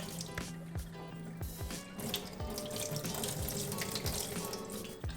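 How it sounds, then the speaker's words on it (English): Jasmine rice being washed under a running kitchen tap, water streaming steadily into a sink or pot with grains swishing and splashing, close and continuous throughout. "Now go on to wash your rice."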